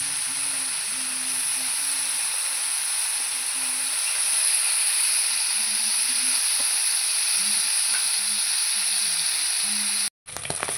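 Fried amudi fish returned to a hot pan of oil give a steady, loud hiss and sizzle that holds evenly for about ten seconds before a brief cutoff, with no talking.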